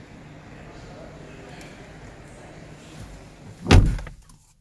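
A Citroen C4 Grand Picasso door shuts with one solid, heavy thud near the end, heard from inside the cabin over a steady low background hum, then the sound cuts to near silence.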